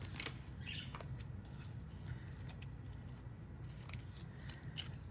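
Fabric pieces for a stocking banner are cut with scissors, giving a run of soft, close snipping and crisp cutting clicks in a quiet room, with no talking.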